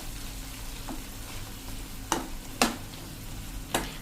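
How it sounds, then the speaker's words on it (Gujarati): Fresh cream is stirred into sautéed vegetables for a Punjabi-style gravy, a steady soft sizzle in the pan broken by three or four sharp spoon knocks against the metal. "હવે એમાં આપણે 1 ચમચી જેવી મલાઈ ફ્રેશ નાખી દેશું અને એને આપણે સરસ મિક્સ કરી લેશું"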